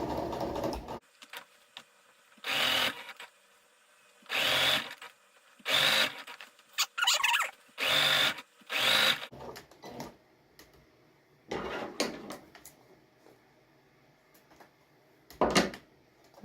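A sewing machine stitches a flange pillow in repeated bursts of a second or so, separated by short pauses, heard close up and fairly quiet.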